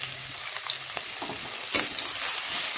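A small amount of sliced onion drops into hot oil in a pan while cooking a Bengali fish curry, giving a steady close sizzle with a brief sharper burst of spattering partway through; no voices.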